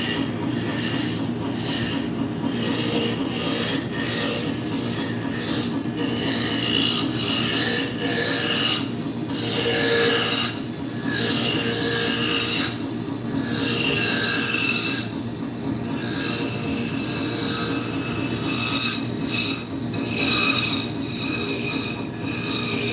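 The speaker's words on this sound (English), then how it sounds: "We're going to start out with a roughing gouge." Roughing gouge cutting spinning wood on a lathe, a loud continuous rasping, scraping whine that swells and briefly drops in repeated passes, close and without talking.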